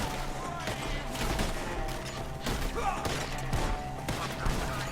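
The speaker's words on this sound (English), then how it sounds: "Shoot the ones up there first!" Gunfire rings out in Red Dead Redemption 2 during a shootout with enemies up in the trees, a steady run of sharp shots and rapid volleys over several seconds, loud and close, with game voices calling out between bursts.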